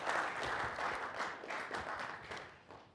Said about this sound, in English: Feel free to applaud our panelists.